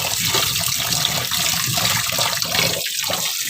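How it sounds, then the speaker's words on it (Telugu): Bore water runs steadily from a tap in a home kitchen, a continuous, close, fairly loud hissing gush with no voices over it. "డైరెక్ట్గా బోర్ వాటరే వస్తాయి"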